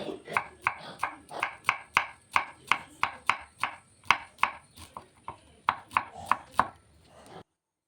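A knife chops through a tender coconut flower cluster in a quick, steady rhythm of about twenty close, crisp strikes, with a short pause partway through before the cutting resumes and then stops.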